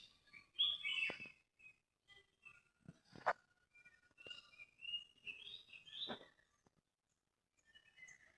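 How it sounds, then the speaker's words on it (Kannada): Birds in K Gudi forest give scattered chirps and short whistled calls, several separate bursts over a quiet background, fairly faint and distant with no voices. "ಬರ್ಡ್ಸ್ದು ಸೌಂಡ್ಸ್ ಕೂಡ ಕೇಳೋಕ್ಕೆ ತುಂಬ ಇಂಪಾಗಿರ್ತದೆ"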